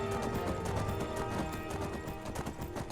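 A horse gallops in the Skyrim video game, rapid rhythmic hoofbeats that are loud and close for three seconds, mixed with a faint whinny-like tone and no speech.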